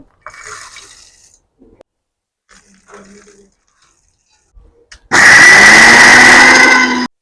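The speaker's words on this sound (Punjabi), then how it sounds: "ਛੋਲੇ ਆਪਾਂ ਹੁਣ ਗ੍ਰੈਂਡ ਕਰ ਲੈਨੇ ਆ ਚੱਗ ਦੇ ਵਿੱਚ ਪਾ ਲਾਂਗੇ" A blender jug grinding roasted chickpeas starts abruptly after quiet handling sounds and runs loud and steady with a high whirring motor and rattling contents.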